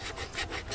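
A pipe is cut slowly by hand with a saw in an open field, giving a steady rasping stroke repeated about four times in under a second, close and moderately loud with no talk.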